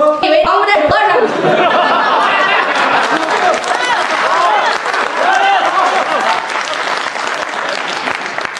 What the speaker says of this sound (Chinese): 感谢您的掌声